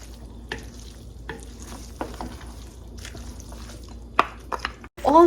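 Pancetta frying and being stirred in a pan, with a soft steady sizzle and scattered scraping and tapping strokes, then a few louder clinks and a sharper burst at the end.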